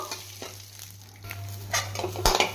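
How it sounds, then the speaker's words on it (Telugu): Peanuts fry in a pan for peanut chutney, giving a steady soft sizzle broken by scraping stirs that grow louder and busier toward the end. "వేరుశనగ పప్పు ఈ విధంగా ఫ్రై అయితే మాకు సరిపోద్ది."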